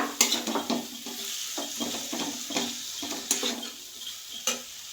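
Spice masala and potato pieces being stir-fried for an eggplant curry, a spoon scraping and clattering against the pan in an irregular rhythm over a steady close sizzle, with no talking.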